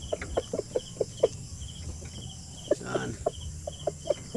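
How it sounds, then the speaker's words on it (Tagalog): Large broodcock rooster, about 5.5 kilos, in a backyard yard, giving soft repeated clucks in a loose rhythm, fairly close but quiet, with one brief spoken word. "Malaking manok po ito."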